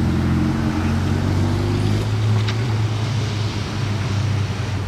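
A Spider sports car passes close by near the Monaco street circuit, a loud, steady, deep engine drone holding throughout without any voices.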